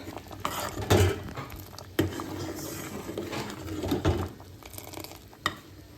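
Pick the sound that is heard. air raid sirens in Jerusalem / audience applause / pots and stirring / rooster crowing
pots and stirring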